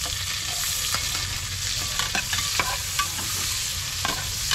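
Garlic, ginger and onion sautéing in a pan make a steady loud sizzle, with a few sharp stirring scrapes and taps against the pan.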